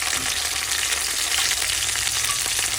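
Pieces of hilsa fish frying in hot oil, giving a loud, dense and steady sizzle close by with no pauses or voices.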